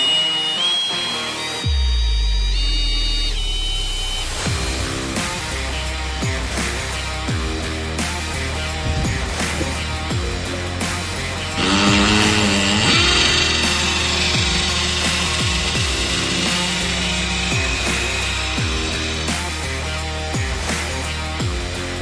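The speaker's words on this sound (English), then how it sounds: "this is the Milwaukee M12 drill driver." A Milwaukee M12 cordless drill driver running on its own, a close, steady whirring motor with repeated ratcheting clicks and shifting pitch throughout, with no voices.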